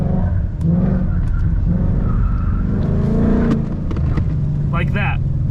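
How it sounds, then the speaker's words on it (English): A car drifting under throttle, its engine roaring loud and near while the tires slide and squeal, the note shifting as the rear steps out, with a brief squeal near the end. "start giving throttle, and you're gonna feel it slide out"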